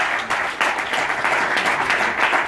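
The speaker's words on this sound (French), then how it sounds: "Je voudrais qu'on l'applaudisse aussi." Sustained applause from an audience at a tech association's general assembly, a dense, steady wash of many hands clapping at moderate level with no talk over it.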